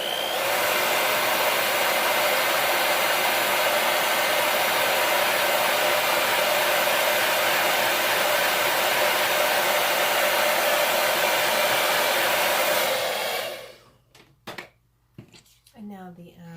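A handheld hair dryer drying painted lettering on a saw blows with a loud, steady whir for about thirteen seconds, then switches off, leaving a few faint handling clicks.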